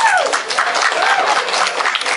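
Audience applause at a live talk on debating theists, dense steady clapping filling the whole stretch at close range with no break and no voices on top.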